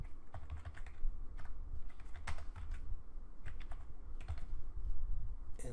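Fingers tap out a file name on a computer keyboard nearby, quiet irregular clicks in short bursts with brief pauses between keystrokes.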